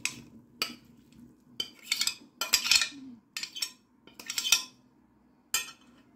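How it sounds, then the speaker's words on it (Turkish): A spoon scrapes and taps on an oiled baking tray as mixed vegetables are spread out for oven baking in olive oil, with intermittent metallic clinks and scrapes in a quiet kitchen. "Ve bir kaşığım yardımıyla sebzelerimi tepsime yayıyorum."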